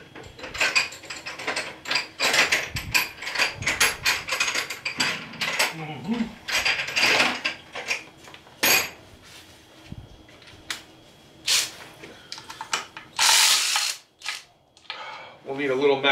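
Ratchet with an extension loosening valve cover bolts on a 4.7 engine, producing bursts of close, rapid clicking and clattering metal handling with short pauses between them, and a voice heard briefly.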